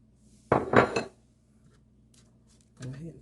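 Burger patties flipped in a frying pan on a home stove, a brief cluster of metal scraping and clatter from the spatula and pan, then quiet, with a soft voice-like sound near the end.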